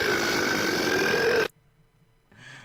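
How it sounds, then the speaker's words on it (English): A cartoonish "ooh" and burp sound effect from a poker app plays loud and sustained for about a second and a half, then cuts off abruptly, followed by a quieter tonal blip. "I love the ooh burp."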